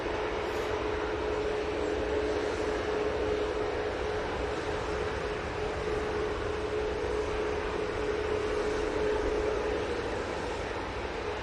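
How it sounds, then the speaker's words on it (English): A Boeing 777-200LR airliner arriving at Manchester Airport, heard as a steady, continuous engine roar with a sustained whine, holding an even loudness throughout with no talking. "It has taken 7 hours 48 minutes for this 777-200 LR to grace us with its presence"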